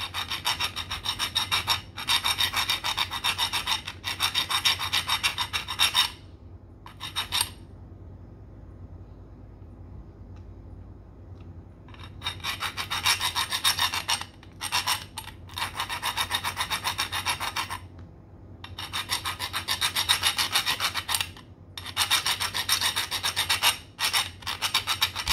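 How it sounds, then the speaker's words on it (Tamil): A hand thread file rasping back and forth over a damaged external thread on a metal part, in repeated strokes grouped into bursts with short pauses and a longer silent gap midway, close and steady. "ஸோ நான் இப்போ வந்து ஃபைல் பண்ண ஸ்டார்ட் பண்ணிட்டேன். ஸோ எங்கே த்ரெட் டேமேஜாக இருக்கோ அந்த இடத்துல நான் வந்து ஃபைல் பண்ணுறேன்."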